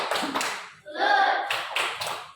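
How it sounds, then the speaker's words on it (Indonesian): A classroom gives a rhythmic tepuk salut, with bursts of hand claps and tapping in a quick pattern, close and under children's voices chanting along. "Kita beri tepuk salut."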